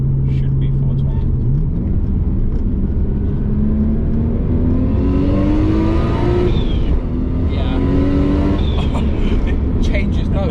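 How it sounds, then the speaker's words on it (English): A Nissan Skyline R32 with a 2.0-litre engine revs hard with the boost turned up, its rising, shifting note carrying a clear wastegate hiss, loud and continuous with people talking over it. "It literally changes note. You can hear the wastegate even more."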